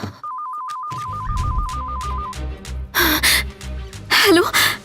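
A phone ringtone trills in a rapid, steady electronic warble for about two seconds during a dramatic film scene, followed by sharp breathy gasps and louder bursts of sound.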